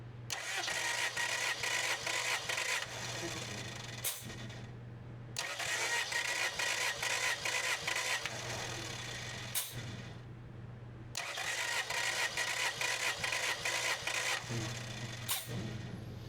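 A car engine cranks over rapidly with no start during a dry compression test on cylinder four, in three long runs of fast, even chugging separated by short pauses.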